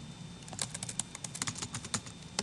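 Typing on a computer keyboard while using word prediction software, a steady run of close, quick, crisp key taps with uneven rhythm, alone without talk.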